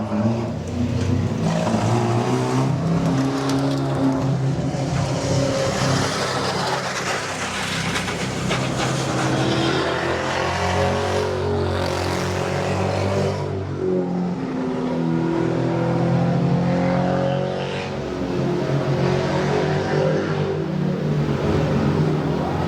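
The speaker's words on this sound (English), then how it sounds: "out on track now are the Bangers as they start their formation lap" Banger stock cars roll around an oval on a formation lap, a steady roar of many engines with rumbling exhausts that swells and fades as the pack passes.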